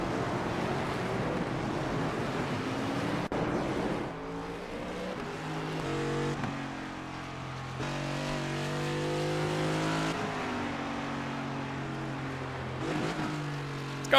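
A NASCAR race car engine in the iRacing sim on the Nürburgring, a continuous droning roar whose pitch climbs and falls through shifts, steady and moderately quiet with no voices.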